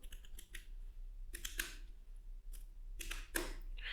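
Typing a compile command for a C program on a computer keyboard: a few scattered clusters of crisp key clicks, close and fairly quiet, with pauses between them and no talking.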